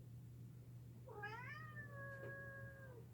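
A cat meows outside, one long drawn-out plaintive cry that rises and then holds steady, heard faintly at a distance over a steady low electrical hum.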